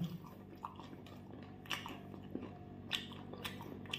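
Close, crunchy chewing and biting of a chhatu roll, a mushroom roll made with tomato, with a few sharper crunches spread over a quiet background and no talking.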